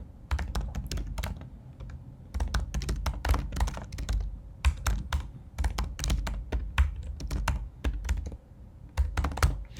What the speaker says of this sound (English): Just simply type